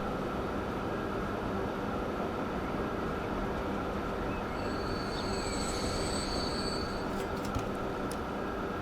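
A train rolling along tracks in Transport Fever 2 past Martigues station, a steady loud rumble of wheels on rail with high metallic squeals creeping in near the end, continuous and close, no talking.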